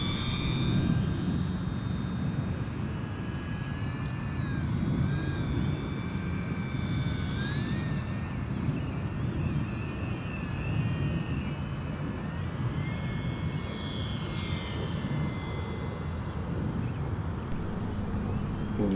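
A small E-Flite UMX Air Tractor radio-controlled model airplane on a 3-cell battery buzzes steadily overhead for the whole stretch, its high thin motor whine rising and falling in pitch as it flies past, with broadband outdoor wind noise underneath.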